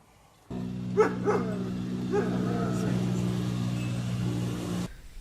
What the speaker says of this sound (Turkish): Köpeklerimizin cinsi genel olarak kangal köpeği.